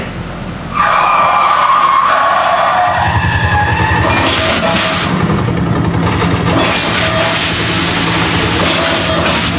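The Fast and the Furious stunt cars at a Universal Studios Hollywood show skid hard. Loud, continuous tire squeal and roaring engines come up close after a brief quieter start, with a crowd audible underneath.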